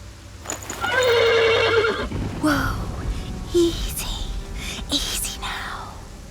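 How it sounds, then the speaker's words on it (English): A horse whinnies and neighs loudly and close by in a long, shaky call, followed by snorts and shuffling, with hushed whispering voices in the background. "The horse nearly woke the guard."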